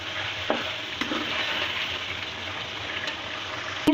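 Chicken karahi sizzles and fries in a pan while being stirred, a steady close hiss of frying with a few sharp scraping knocks of the spoon.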